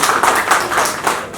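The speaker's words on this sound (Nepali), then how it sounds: "उहाँको लागि पनि जोरदार ताली बजाइदिनुहोस्।" Audience clapping at a live comedy show, a steady ripple of hands filling the room for the whole moment, loud and close without any voices over it.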